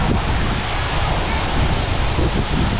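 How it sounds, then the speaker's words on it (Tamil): Strong wind batters the microphone over rushing water at the Aagaya Gangai waterfall, a dense, steady roar that fills the whole short stretch. "போக போக காற்றும் பயங்கரமாக அடிக்குது."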